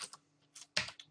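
A few quick keystrokes on a computer keyboard, soft clicks in short irregular bursts, close and quiet, with silence between them.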